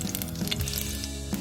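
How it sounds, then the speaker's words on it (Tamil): Coconut oil heats in a pan, giving a soft, brief sizzle and a few faint squishy crackles in the background, with no talk. "ஒரு சட்டியை வச்சு கோகனட் ஆயில் விடுறேன்."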